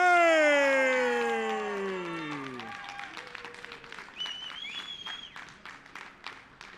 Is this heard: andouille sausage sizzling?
no